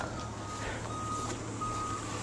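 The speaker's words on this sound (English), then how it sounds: "Fire trucks all over the place." A fire truck's reversing alarm beeps at a steady interval from a short distance away, sounding over a low engine rumble on a snowy street.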